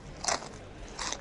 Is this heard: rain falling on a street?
no